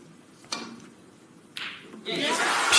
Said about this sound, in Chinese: 现场的观众已经开始疯狂鼓掌了